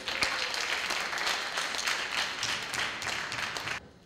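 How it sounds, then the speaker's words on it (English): Dense, steady applause from a crowd for a panel, sustained throughout before cutting off abruptly near the end. "Can I have a round of applause for them?"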